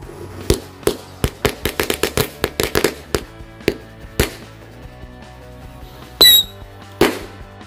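Firecrackers and petards buried in the ground go off in a rapid string of sharp, loud bangs, then fewer scattered pops, ending with a hissing burst and one final crack.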